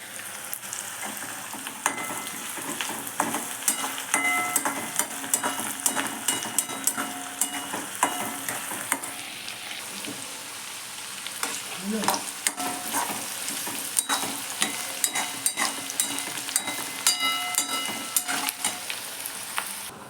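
Spices temper in hot oil for Maharashtrian phodnicha bhaat fried rice, a steady close sizzle and crackle with occasional stirring scrapes of a spoon in the pan, continuous throughout.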